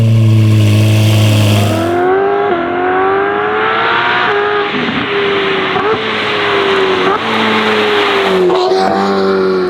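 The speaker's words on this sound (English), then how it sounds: "this car has got a complete straight pipe Novitec exhaust system." A Ferrari F8 fitted with a straight-pipe Novitec exhaust system and an N-Tronic power upgrade revs hard and close, its engine note rising and falling through several sharp climbs and drops, loud and raw with no talking.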